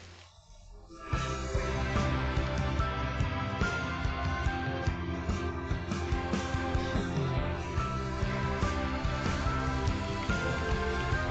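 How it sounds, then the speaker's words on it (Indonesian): Rain in Shanghai pours down, dense and steady, after a brief quiet opening and carried as a heavy, unbroken hiss through a phone line. "Mau dengar suara hujan di Shanghai?"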